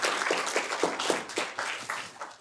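Small lecture-hall audience giving a round of applause at the end of a university algorithms class, loose rhythmic clapping from a modest group, fairly close, with individual claps standing out and gradually tapering.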